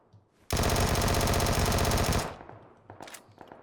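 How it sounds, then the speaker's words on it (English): A Vector submachine gun fired in PUBG, one loud, rapid, unbroken burst of automatic gunfire lasting under two seconds, then fading into faint mechanical clicks and handling sounds. "So here's the focused aim with the Vector. We'll fire off 2 mags."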